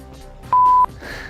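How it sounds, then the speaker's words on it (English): A single pure electronic beep, loud and about a third of a second long, cuts in between quieter background sounds. "Have you got a beep button?"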